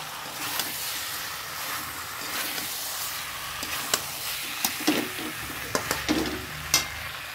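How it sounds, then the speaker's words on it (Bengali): Chicken and potatoes sauté in a spice paste of green chilli paste with a little sugar, giving a steady sizzle with repeated scraping and clinking stirs that grow sharper toward the end. "দেখো মশলাটা কষিয়ে চিকেনটা দিয়ে দিয়েছি, আলুও দিয়ে দিয়েছি"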